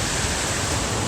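Ocean surf on a beach on Sri Lanka's south coast near Unawatuna and Galle gives a loud, continuous wash of breaking waves, with some wind buffeting the microphone.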